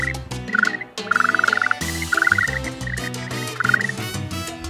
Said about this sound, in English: A tiny frog with a voice that belongs completely to Puerto Rico.